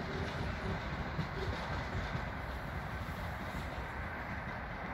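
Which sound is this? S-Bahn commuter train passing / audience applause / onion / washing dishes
S-Bahn commuter train passing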